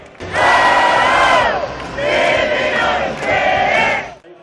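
Florida Gators football fans in a stadium during rain, a crowd roaring and shouting in three loud surging bursts with short dips between them, no single voice standing out.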